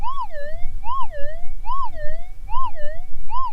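Garrett Axiom metal detector sounding off over a gold target: a loud, smooth warbling tone rises and falls in about five regular sweeps, alone with no talking.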